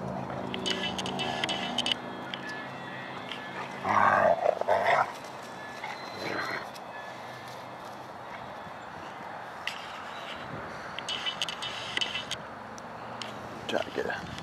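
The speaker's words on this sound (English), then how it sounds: "shot real quick of the dogs running out to squirrel" Several dogs dash outdoors after a squirrel, with barking and scrambling paws, including a loud burst partway through, under ongoing talk from people nearby.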